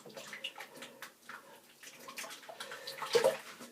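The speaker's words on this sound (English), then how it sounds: "Now I'll just rinse my brush off" A shaving brush is rinsed under a running tap, giving a steady splashing water sound at close range that swells briefly near the end.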